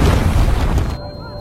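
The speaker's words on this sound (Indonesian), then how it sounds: "bom jatuh tepat di hadapan Nur, membuatnya lenyap seketika" A bomb explodes in a war film, a loud deep rumbling boom filling the first second before cutting abruptly to near silence with a faint lingering tone.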